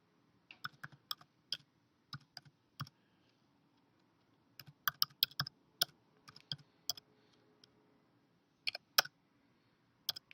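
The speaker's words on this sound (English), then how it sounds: "So we just type that in." Computer keyboard typing sounds out in quick irregular bursts of close, crisp key clicks with short pauses between, fairly quiet and alone.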